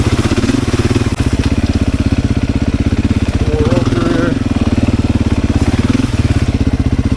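A Beta 500 RS dirt bike rides through tight, muddy single track, its big single-cylinder engine thumping loud and close in a steady rapid pulse that rises briefly.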